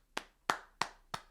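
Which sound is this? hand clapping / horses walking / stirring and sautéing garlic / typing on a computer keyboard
hand clapping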